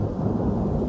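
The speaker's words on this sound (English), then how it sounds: "it is raining again," Heavy rain pours down outside a U-Haul box truck being converted into a camper van, a dense, steady roar with low rumbling like distant thunder.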